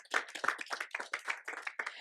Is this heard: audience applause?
yes